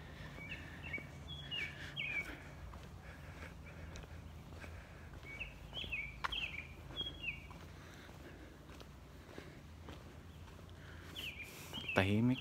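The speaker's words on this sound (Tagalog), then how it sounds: "Kita mo lang yung huni ng mga ibon." Birds chirp in a quiet residential neighborhood during a morning walk, with short calls repeating faintly at a distance over low background noise and scattered footsteps.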